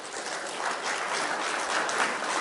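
Audience applause answers a question about California's drought, a dense, steady wash of many hands clapping for a few seconds at moderate level with no voices over it.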